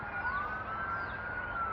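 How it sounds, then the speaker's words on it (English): Wailing siren of an emergency vehicle, an ambulance or fire truck, sweeping steadily in pitch over a constant bed of outdoor noise beside a marsh, fairly close and continuous. "now we've got like a, what is this, an ambulance, a fire truck"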